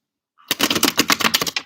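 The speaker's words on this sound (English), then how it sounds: "Shuffle the cards." Tarot cards are shuffled in a quick run of crisp riffling clicks after a short silence, about a dozen close, rapid snaps in an uneven rhythm.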